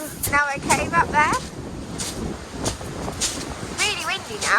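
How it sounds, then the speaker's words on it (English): Strong wind buffets the microphone at Freshwater Bay on the Isle of Wight coast, giving gusty, rumbling noise, while voices talk and call out over it. "Really windy now."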